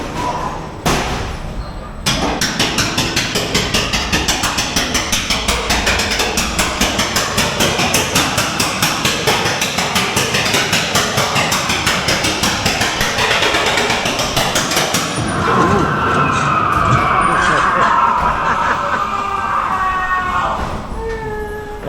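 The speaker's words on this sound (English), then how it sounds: "We're on the ghost train now." A ghost train fairground ride clatters along with a rapid, steady mechanical rattling and thumping, loud and close, giving way partway through to squealing wheels and rumbling as the car keeps running.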